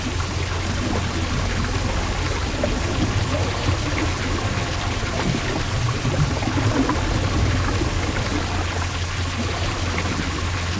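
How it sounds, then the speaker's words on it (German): Water flows in during a scene of the adventure game Trüberbrook, a steady, even rush like a pouring stream, loud and constant throughout with no break. "Oh, da kommt schon das Wasser."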